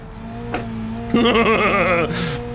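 A Group A rally car in BeamNG revs hard and accelerates fast, with a loud, close engine note rising and wavering in pitch, a brief burst of tire noise at the end.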